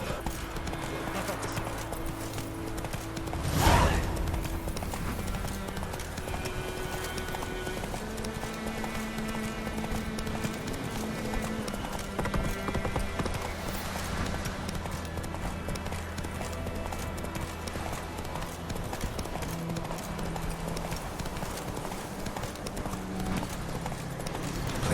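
Roach, the horse in The Witcher 3: Wild Hunt, gallops with a steady, continuous clip-clop of hooves while characters talk over it and a brief whinny comes near the start.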